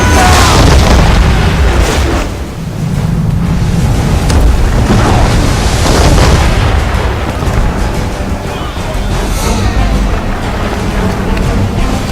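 Cannon fire from a sailing warship in the video game Assassin's Creed III, loud booming blasts over a constant roar of wind and sea, with shouted commands around it.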